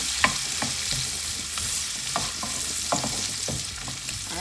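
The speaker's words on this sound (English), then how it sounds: "saute this until it gets translucent" Scotch bonnet pepper with its seeds sautéing in a pan for Jamaican saltfish cook-up, a steady close sizzle broken by repeated scrapes and clacks of a stirring spoon, with no voices.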